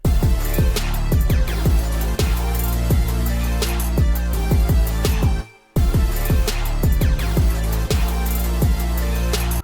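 The same song hook now layered with a counter melody filling the gaps, a loud, busy stream of plucked notes over deep bass that drops out for a brief silent break before kicking back in.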